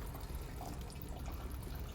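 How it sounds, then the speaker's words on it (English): Water draining out of the rear windscreen washer pump on a Honda Jazz, a steady low trickling and gurgling flow that runs without a break for the whole stretch, close by, with no one talking over it. "Okay, so all the water is come out"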